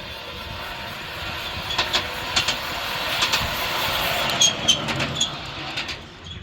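A miniature railway locomotive runs on rails, a steady mid-distance rumble with repeated clicks of wheels over rail joints and a faint whine, no talking.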